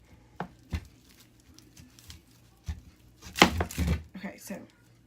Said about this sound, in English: I don't know if I'm cutting this onion right